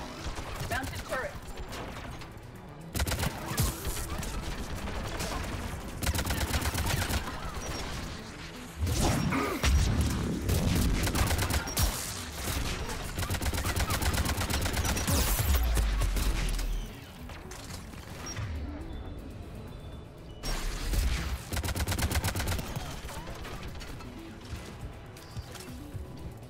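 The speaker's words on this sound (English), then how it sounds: "Mounted turret." Mounted turret firing during a Mass Effect 3 battle on Rannoch: sustained loud bursts of heavy automatic fire with impacts and crashes, broken by brief lulls, under a dense game soundscape.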